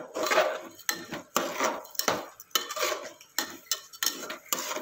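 Dal and rice being stirred into a tempering in a pot for khichdi: a rhythmic series of loud, close scraping strokes of a spoon against metal, each burst followed by a short pause, with no talk.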